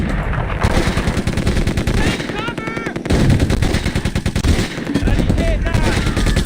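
Wartime battle gunfire in the tactical game Close Combat: sustained machine-gun bursts and rifle shots rattling almost continuously, loud and close, with a voice talking at times.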